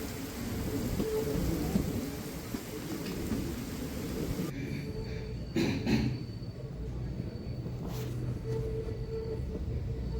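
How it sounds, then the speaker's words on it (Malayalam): Steady heavy rain hisses throughout at New Aryankavu railway station, with a brief louder rumble partway through and a faint background roar. "ഇവിടെ നല്ല മഴ പെയ്യുന്നുണ്ട്"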